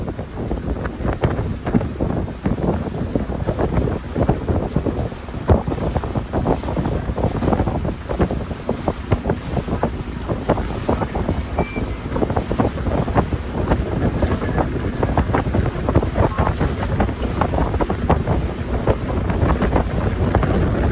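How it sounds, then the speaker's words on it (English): Strong outdoor wind buffets a microphone in a continuous roar of rumbling gusts at Disney World, loud and unbroken for about twenty seconds, with no talk over it. "Oh, that is windy, friends. There's nothing I can do about that. You're going to have to turn your volume down."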